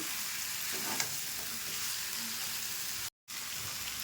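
Peas stirred into potatoes and soybean chunks in a hot pan, a steady broadband sizzle with soft scraping stirs throughout and one brief dropout near the end.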